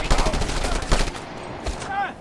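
Dual submachine guns fire in Just Cause 2, giving dense rapid bursts of gunfire that come up loud and close in the first half and then thin out into scattered shots and game noise.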